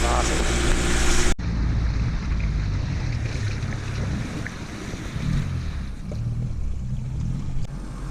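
A steady low engine rumble from a fishing trawler coming into an anchorage on Tasmania's east coast in winter, with strong wind buffeting the microphone and water washing around it.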